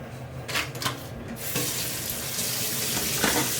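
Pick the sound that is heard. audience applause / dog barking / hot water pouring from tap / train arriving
hot water pouring from tap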